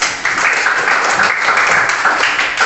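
Classroom applause for a student who answered a square-area question, a brief burst of many hands clapping together, fairly loud and steady for a couple of seconds.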